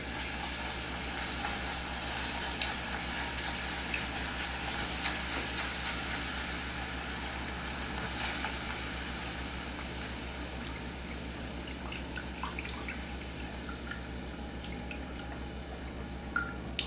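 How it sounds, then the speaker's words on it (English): Milk poured slowly into a hot pan while being constantly stirred, giving a continuous sizzle with soft drips and liquid movement throughout, close and steady. "constantly stir and slowly pour in your milk"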